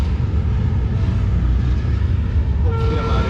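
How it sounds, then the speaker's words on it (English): A cargo train in Turkey rumbles past on the rails, loud and close, with a horn sounding near the end over the steady rolling noise. "Now this train's leaving."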